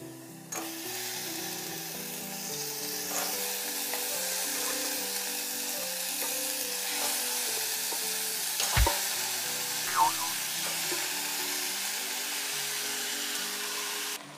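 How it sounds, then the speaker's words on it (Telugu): Cleaned country chicken fries in an oiled pan, a continuous bright sizzle with occasional stir scrapes and one sharp metallic clank, set under soft background music. "ఇప్పుడు దీనిలో మనం క్లీన్ చేసి పెట్టుకున్న నాటుకోడి చికెన్ని వేసుకోవాలి."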